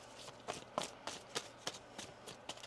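A tarot card deck being shuffled in quick, close, crisp riffling bursts, about eight sharp flutters in a steady rhythm, quiet and alone.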